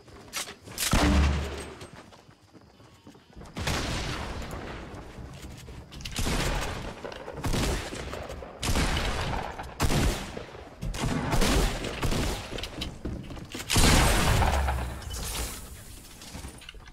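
Gunshots in a video game: repeated loud shots and heavier volleys fill the whole stretch, coming in clustered bursts with brief lulls between them.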